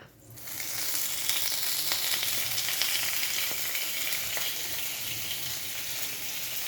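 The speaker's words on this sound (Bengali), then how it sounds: "এবার আমি তেলের মধ্যে দেবো 2টো তেজপাতা" Two bay leaves dropped into hot oil in a wok burst into a sudden loud sizzle that holds steady and close, with faint crackles and no voices.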